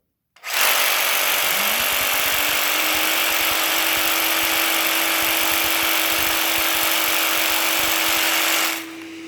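A Festool PS420 jigsaw is switched on to reset its blade mechanism. The motor spins up sharply and holds a loud, steady whine with a rising pitch at the start, runs for about eight seconds, then shuts off, with no voices.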